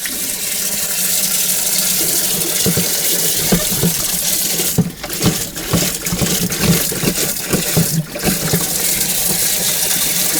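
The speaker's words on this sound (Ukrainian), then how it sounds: "Тепер відкриваємо трошки кран." Water runs steadily from a partly opened tap into a float-type cow drinker, a continuous close hiss with gurgling and splashing that shifts as the flow changes.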